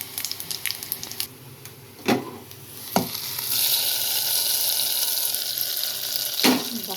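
Asafoetida dropped into hot oil for a tomato-scented tempering for gongura dal sets off a steady sizzle that rises after a few sharp clinks and knocks, holding loud and close with no talking.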